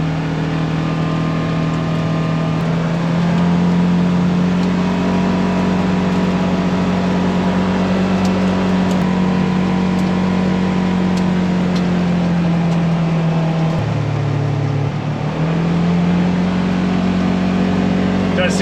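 A Polaris General UTV fitted with a new Duraclutch CVT clutch drives along, its engine droning loud and close at a steady pitch, dipping briefly as the revs drop before climbing back up.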